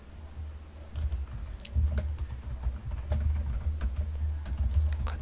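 Computer keyboard keys clatter in a close, quiet room, with irregular clusters of clicks and taps over a low hum and no talking.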